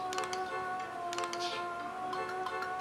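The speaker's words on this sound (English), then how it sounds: "Sounds like there's like one of those sample home keyboards playing." Wind Waker GameCube soundtrack in a tinny rendition like a sample home keyboard: sustained synthetic tones with bright, ticking plucked notes tapping out a steady rhythm throughout.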